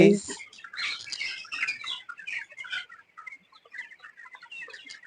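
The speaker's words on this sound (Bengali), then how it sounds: "এখানে দুই হাজার মুরগি দেয়া" Chickens cluck and chirp in a large poultry farm house holding two thousand birds, a busy overlapping chorus of many close and distant calls, with a brief voice at the start.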